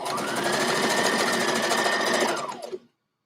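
A sewing machine runs steadily as it stitches through fabric, a loud, continuous mechanical whir lasting over two seconds before winding down and stopping abruptly.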